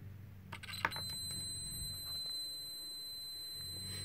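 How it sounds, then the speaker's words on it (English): Digital multimeter set to continuity beeping while its probes touch a piece of plain wire, a single steady high-pitched electronic tone that sounds close and clear and holds for several seconds over quiet background. "and you'll hear an audible tone"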